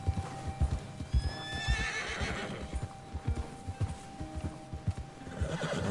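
Hooves clop in a quick, uneven rhythm as a horse moves along in the video game Red Dead Online, with a brief whinny partway through and steady ambient hiss behind.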